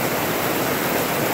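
Heavy rain pours down during a sudden summer storm over Peterborough, a dense, steady roar of water that fills the whole space evenly and loudly without a break.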